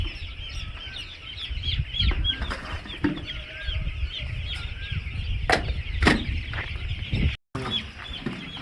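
Chickens on a poultry farm cluck and squawk steadily in a dense flock chorus, with occasional louder close calls and wing flaps over a constant barn background hum.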